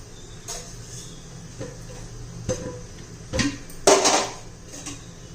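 A metal cooking pot set down on a stove while cooking, giving a few light clanks and taps, then a louder knock near the end, all against a quiet kitchen background.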